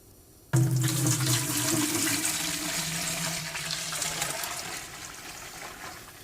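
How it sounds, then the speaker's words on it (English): Warm water suddenly gushing from a tap into a laundry wash basin to make suds: a loud, close, continuous rushing splash that starts abruptly and slowly softens as the basin fills. "you want to add some water to get it all sudsy"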